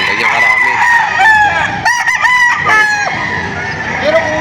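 Roosters crowing repeatedly and loudly among clucking chickens at a crowded livestock auction market in Padre Garcia, Batangas, several birds calling over one another up close.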